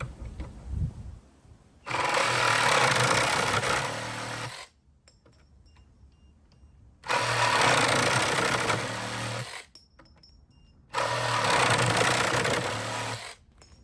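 A cordless reciprocating saw, a Chinese Makita copy, buzzes loudly cutting a pipe in three separate bursts of a few seconds each, with quiet pauses between the cuts.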